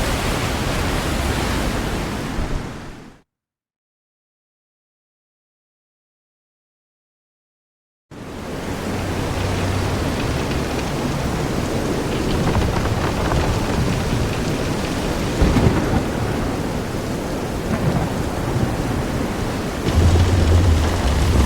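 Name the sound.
storm with rain and thunder at sea, from the video game Visions of Mana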